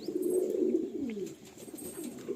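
Madrasi Malwai pigeons with leg rings give low, throaty coos that repeat nearby in soft rolling phrases, with faint background chatter.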